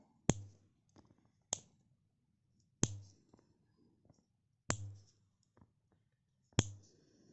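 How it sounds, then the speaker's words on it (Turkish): Nail scissors cut toenails in a series of sharp, dry snips. Five distinct crisp clicks come at irregular intervals of roughly one to two seconds, close and fairly quiet, with faint handling sounds between them. "Tırnak makasımızın ucuyla"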